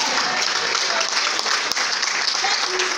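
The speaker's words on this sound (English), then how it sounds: "Clap for yourself" Steady, dense applause from a church congregation, many hands clapping at once in a continuous wash that fills the room, with a faint voice or two underneath.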